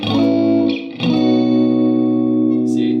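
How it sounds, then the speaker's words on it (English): Electric guitar played through a pedalboard with a reverb pedal switched on: sustained chords ring out loud and close, with a brief dip and restrum near one second and a reverberant tail lingering to the end. "If I have reverb on, this is what it sounds like."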